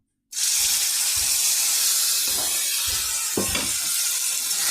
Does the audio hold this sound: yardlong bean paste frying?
yes